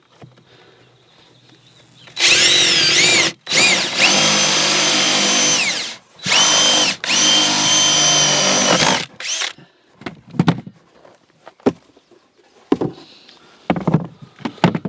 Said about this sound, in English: I'm going to take a drill bit and I'm going to drill